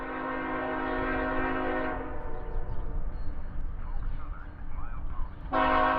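A Norfolk Southern freight train passes through Cordele, Georgia, sounding a loud sustained horn blast that cuts off and returns near the end, over a continuous rumble of rolling railcars and wheels.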